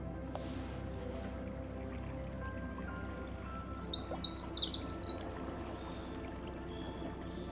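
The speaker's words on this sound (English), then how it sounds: "it's just so nice to hear the birds" Small birds chirp by a canal, a brief cluster of bright twittering calls rising midway over a quiet, steady low hum from a narrowboat on the water.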